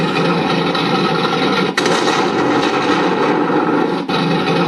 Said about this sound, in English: And then cannon fire